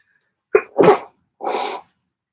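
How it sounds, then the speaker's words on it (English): A person sneezes twice in quick succession, a sharp burst followed by a second, then a separate breathy, hissing third expulsion, close and fairly loud with no talking. "I'm going to sneeze again."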